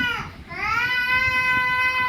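A young child imitates a kitten's meow with one drawn-out, high, wailing vocal cry that swells after a brief dip and holds close and fairly loud.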